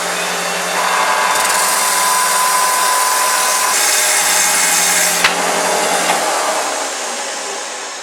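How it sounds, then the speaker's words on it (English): A broken pilot drill bit is ground to a point on a grinder, a steady, loud abrasive whine and rasp with shifting pitch as the metal is pressed and turned, then easing off at the end. "I'll grind one end to a point."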